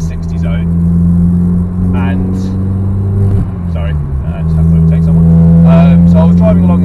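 A car engine hums and rises in pitch as the driver accelerates to overtake another car on a 60 zone bypass, recorded from inside the cabin with a steady low drone and someone talking over it.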